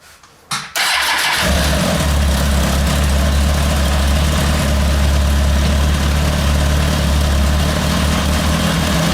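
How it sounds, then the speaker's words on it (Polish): A Kawasaki ZX-10 motorcycle engine catches after a brief crank and then settles into a loud, steady, low rumbling idle that holds for the rest of the clip. "Ja to spróbuję zademonstrować przy uruchomionym silniku."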